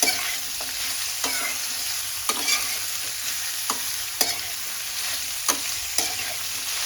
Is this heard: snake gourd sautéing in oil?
yes